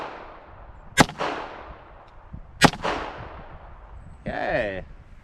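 .22 self-defense rounds fired at targets on an outdoor range, two loud, sharp shots about 1.5 seconds apart, each with a short echo, followed by a brief spoken voice.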